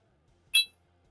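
A game show right-answer chime rings out once, a short bright electronic ding that fades quickly over a quiet background.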